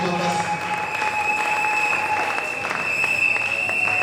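Congregation in a church applauding, a sustained wash of clapping from many hands mixed with crowd murmur and a steady tonal hum, fairly loud and even throughout.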